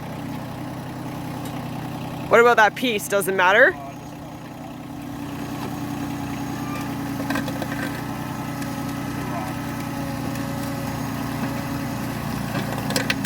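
Steady low rumble of a tractor engine pulling a cultivator through packed, rocky soil, running throughout, with a short spoken exchange near the start over it.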